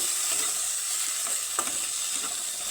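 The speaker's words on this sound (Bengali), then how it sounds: "দিয়ে দিব কেটে রাখা টমেটো আর দিয়ে দিব কারি পাতা সবগুলো উপকরণ আমি সুন্দর করে ভেজে নেব" Chopped tomatoes and curry leaves fry in a pan with a steady close sizzle, broken by a few soft stirring scrapes, and no one speaking.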